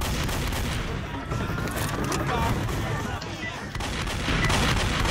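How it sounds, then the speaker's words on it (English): Pipe bombs exploding amid a dense, continuous barrage of gunfire in Left 4 Dead survival mode at the Boathouse, loud and chaotic throughout with rumbling blasts layered over rapid shots. "Shot those pipe bombs!"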